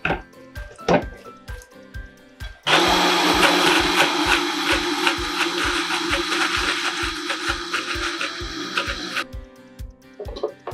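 A blender whirs loudly for about six seconds with a steady grinding roar while blending a vegetable-only tartar sauce, framed by rhythmic knocking and clatter before and after.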